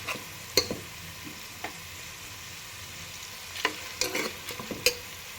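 Onion and curry leaves frying in a pan for a cauliflower curry, a soft steady sizzle with a few sharp clicks of a spoon stirring against the pan, nearby and fairly quiet.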